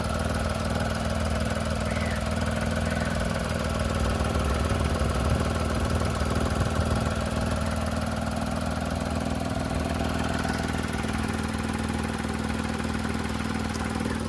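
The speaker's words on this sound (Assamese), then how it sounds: "গাড়ীৰ সাউন্ড ডাউনো ধুনীয়া হৈ আছে ইঞ্জিনটোও ধুনীয়া হৈ" A Renault Kiger RXT(O) engine idles steadily with a continuous low hum and mild mechanical rumble, close and even throughout with no talking.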